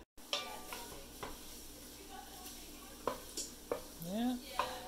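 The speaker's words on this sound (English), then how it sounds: "I'm going to get to it by starting by browning the butter for the Western style soup" Butter browns in a pan with garlic and sage, with a quiet, soft sizzle broken by several sharp scrapes and squeaks of a utensil stirring against the pan.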